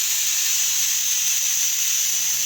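Spices and onion tempering in hot oil for chana sundal, giving a steady, loud broadband sizzle that holds evenly throughout with no talking.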